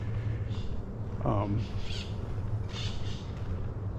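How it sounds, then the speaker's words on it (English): An exotic bird gives a short squawking call amid steady background noise, with faint chirps and rustles scattered around it, in a tropical resort. "just walking through this zone with the sounds of the exotic birds"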